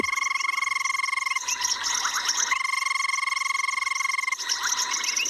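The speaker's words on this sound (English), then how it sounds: "there's 5 different species of frog that's calling here that we can hear" Banded rubber frogs and several other frog species call together in a dense, loud chorus in the South African bush, layered pulsing trills and whistles that run without a break.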